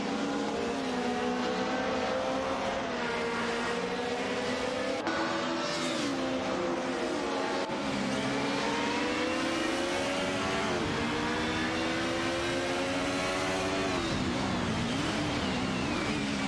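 Racing engines from an Alfa Romeo 155 TV6 and a BMW M3 GTR Evo in a racing game, a continuous loud high-revving drone with rising and falling pitch through gear changes and passes, and brief tire squeal.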